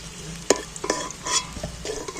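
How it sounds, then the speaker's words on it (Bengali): Potatoes frying in oil until reddish-brown, a continuous close sizzle broken by a few sharp stirring and scraping clicks, with no voices. "আলুগুলো লাল লাল করে ভাজবো"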